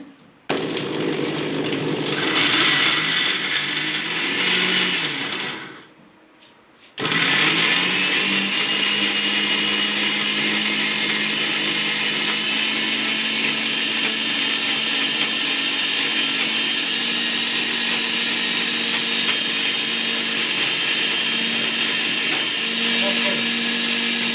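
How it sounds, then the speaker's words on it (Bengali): A mixer grinder whirs loudly through chutney spices in a short first burst, stops briefly, then restarts and runs in a long steady drone to the end. "চাটনির মশলা রেডি। এই দাবাও আর মেশিন অন করো, 10 সেকেন্ড 20 সেকেন্ড চালানোর পরে"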